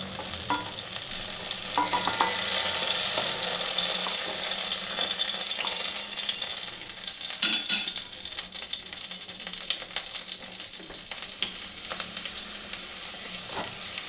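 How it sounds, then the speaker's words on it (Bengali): Eggplant slices frying in oil in a pan, a steady close sizzle with occasional scraping and clinks of a spatula, no talking. "বাকিটা আমি আরও ভেজে নেব"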